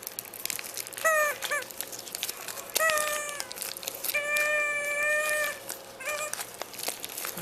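A composition doll's crier mechanism gives out a series of bleating, wailing baby-cry sounds, several short cries in bursts with pauses between them, close and fairly loud with no talking.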